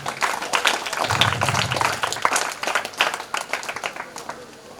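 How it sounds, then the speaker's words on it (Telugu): Audience clapping in tribute to a respected school master, a dense patter of many hands with crowd noise and voices mixed in, loud and sustained before tapering off at the end. "మీరందరూ ఒకసారి మరి మాస్టర్కి క్లాప్స్ కొట్టి"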